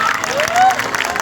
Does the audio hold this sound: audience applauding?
yes